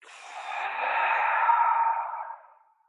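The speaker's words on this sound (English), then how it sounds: "Long breath out." A single long, breathy exhale during a guided yoga breathing exercise, swelling gently and fading out over about three seconds, close and soft with no talking.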